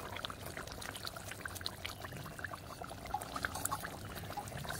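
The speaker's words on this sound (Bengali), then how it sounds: "আমি একটু কাঁচা সর্ষের তেল দেবো।" Raw mustard oil poured into a simmering pabda fish curry made with mustard and poppy seed paste, a soft continuous trickle and splash over low kitchen bustle, faint and steady throughout.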